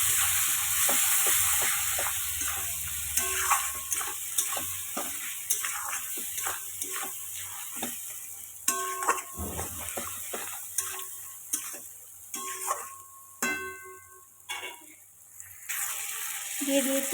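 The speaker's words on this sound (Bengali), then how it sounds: "মশলাটা এবার ভালো করে একটু ভেজে নেব।" Spice masala with tomato, dry red chilli and garam masala frying in a pan, loud sizzling with repeated stirring scrapes and clicks that gradually quiet and turn patchier.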